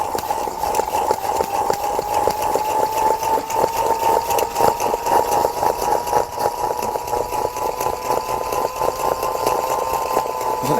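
A steady mechanical whir with a sustained tone and a rapid pulsing rattle from a gyroscopic wrist trainer ball spinning fast inside its handheld shell.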